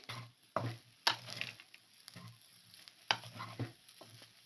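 Egg and rice being mixed together in a bowl or pan, giving a series of soft scraping, clacking stirs in uneven bursts at close range, with no talking.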